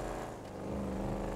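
A Chevrolet Camaro in a modded GTA 5 driving game, badged as a ZL1 but sounding like the stock version, hums with a steady low engine drone at moderate level, no voices over it.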